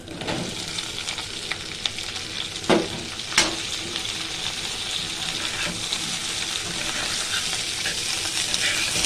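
New potatoes and new beans fry in hot oil with five-spice (panch phoron), ginger and green chillies, a steady broad sizzle with a few sharp clatters of stirring near the start and middle.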